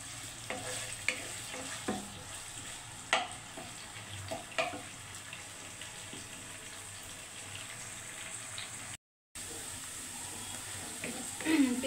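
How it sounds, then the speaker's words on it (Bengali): Onions and chillies frying in a pan for a pointed gourd and hilsa fish curry, a steady sizzle with occasional stirring clicks and scrapes; the sound cuts out briefly near the end. "পেঁয়াজ মরিচ ভাজা হয়ে গেছে"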